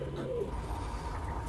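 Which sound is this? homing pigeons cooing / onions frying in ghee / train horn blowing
homing pigeons cooing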